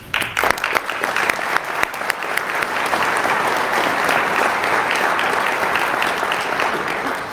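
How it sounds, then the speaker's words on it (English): A large audience at a state police recruit ceremony breaks into applause, scattered claps at first swelling into sustained, loud clapping that carries on steadily. "you really owe yourself a round of applause for your contributions"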